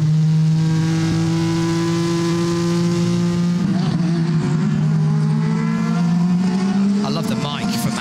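GT race cars at the 6 Hours of Nurburgring, captured from an onboard forward-facing camera: a loud, sustained engine drone holds a steady pitch, then dips and rises again as the car shifts and accelerates, with faint commentary underneath.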